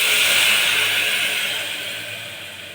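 Water hits a hot cooking pan of fish-head gravy, setting off a loud, broad hiss that gradually fades over a few seconds, with no voices.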